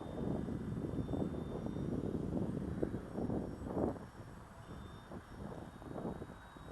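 HobbyKing 1100mm EPP Sbach 342 RC plane on a 3S battery, its electric motor droning steadily while the aircraft hovers on its prop outdoors, with wind buffeting the mic and the pitch wavering slightly throughout.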